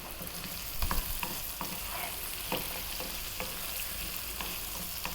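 Pumpkin and turmeric are stirred in a pot for Ethiopian alicha, with a soft low sizzle under scattered spoon scrapes and light knocks, quiet and close with no speech.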